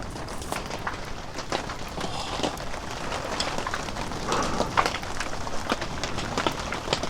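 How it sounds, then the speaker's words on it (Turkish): Rain patters steadily on an inflatable tent during a violent storm, a dense close crackle of drops with scattered sharper hits throughout. "Yağmurda böyle sakin sakin yerler çok güzel değil mi? Pıtır pıtır pıtır pıtır."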